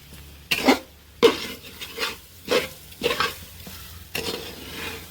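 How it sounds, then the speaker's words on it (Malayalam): Chammanthi chutney with salt is stirred while roasting in a pan: about six loud, separate scraping strokes, each a rough swish against the pan, with short quiet gaps between them. "ഒരു 3/4 മണിക്കൂറെങ്കിലും ഇത് ഇളക്കിയാലേ ഇത് നല്ലവണ്ണം ചുവന്ന് വരത്തുള്ളൂ"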